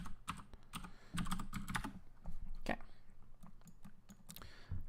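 Irregular bursts of computer keyboard typing, close and fairly quiet, with clustered key clicks and short pauses between, while a voice briefly speaks.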